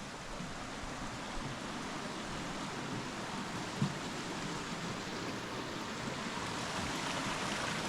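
A highland creek in Tasmania's Western Tiers runs through regrown forest, giving a steady, even wash of flowing water that stays constant and close with no voices.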